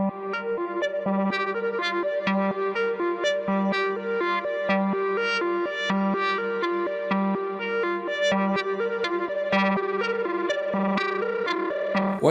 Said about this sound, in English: Adding modulation, the sound can be given more attention.